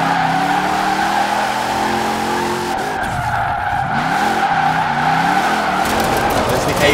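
Car tires in the video game Forza Horizon 4 squeal and skid loudly and without pause through a drift, with a continuous engine drone beneath and sweeping pitch changes as the car slides.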